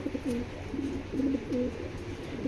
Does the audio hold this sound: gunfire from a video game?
no